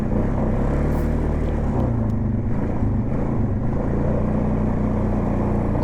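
A Polaris Sportsman 570 ATV runs in all-wheel drive, a steady, loud low engine rumble that holds throughout with slight surges, with no voices.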